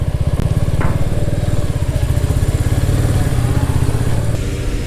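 A motorcycle engine idles loudly and steadily at close range while the bike is moved into a parking spot on a ferry deck filled with trucks, its throbbing rumble continuous throughout with no talking.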